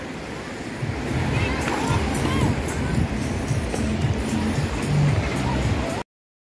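Surf washes steadily onto Da Nang Beach in Vietnam, a constant roar of breaking waves mixed with wind buffeting the microphone, with faint voices in the background.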